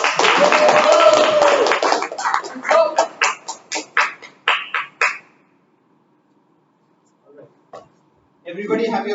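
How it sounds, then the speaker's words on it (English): Applause from the audience at a Toastmasters club meeting, loud and mixed with voices at first, then thinning to scattered separate claps before it stops. Talking follows after a short silence. "Everybody please give a huge round of applause"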